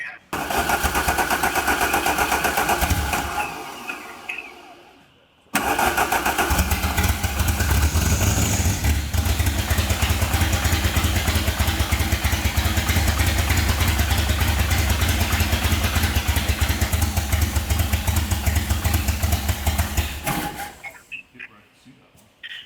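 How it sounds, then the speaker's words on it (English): A Rallygolf car engine runs loud and close with a rough, uneven beat, misfiring on a cylinder, cuts out briefly, then runs again before stopping. "as I was hearing the engine run, it definitely sounded like it was misfiring on a cylinder"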